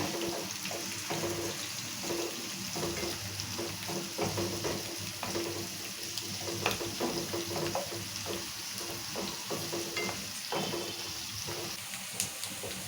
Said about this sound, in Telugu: ఇప్పుడు ఉల్లిగడ్డలు కూడా ఎర్రగా మగ్గాలి మంచిగా